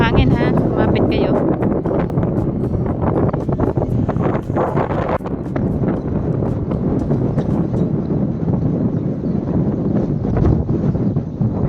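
Strong coastal wind near boats in Mellieħa, Malta buffets the microphone with a constant roar, and faint voices can be heard underneath.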